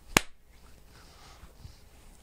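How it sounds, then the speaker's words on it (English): One sharp hand clap rings out close and loud at the start, then fades quickly into near silence in a quiet room. "So something like a hand clap."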